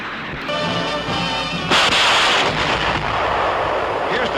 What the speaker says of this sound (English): the rockets can be shot singly, in groups of 6, or all 60 in a continuous stream.